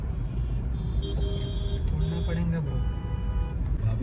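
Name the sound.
road traffic heard from a Tata Nexon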